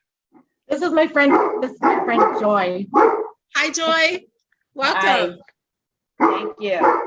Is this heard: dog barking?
yes